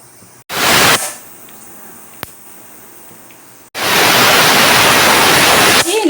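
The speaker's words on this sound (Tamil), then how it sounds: "கடுகு நல்லா பொரிஞ்சிடுச்சு" Mustard seeds splutter in hot oil as loud bursts of crackling hiss, first a short spell, a lone pop, then a longer sustained sizzle close by.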